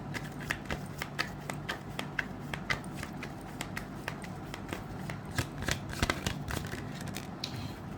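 Tarot cards being shuffled by hand, a steady run of quick, crisp riffling flicks and soft slaps up close, continuing without pause and rising into a few louder bursts near the end.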